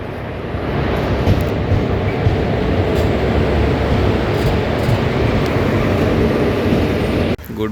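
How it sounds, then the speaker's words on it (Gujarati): A train passes nearby in a loud, continuous rumbling roar of wheels and cars that holds steady throughout, ending with a brief sharp knock near the close. "ટ્રેન જાય છે, વિડીયો બનાવ લે હાલો."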